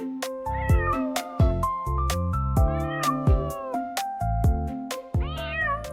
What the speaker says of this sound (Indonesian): Ih, ada kucing gemes banget.